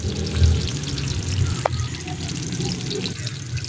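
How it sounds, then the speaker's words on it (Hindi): Onions browning in ghee in a kadai, producing a steady, close frying sizzle with a faint crackle, one brief sharp clink partway through, and no speech. "उसमें हमने घी और प्याज ब्राउन करने के लिए रख दिया।"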